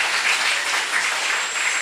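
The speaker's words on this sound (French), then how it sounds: "on applaudit la présence de Dieu encore" A church congregation applauds during a Sunday worship service, a dense, even wash of many hands clapping with no voices on top.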